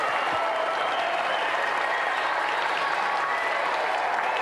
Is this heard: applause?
yes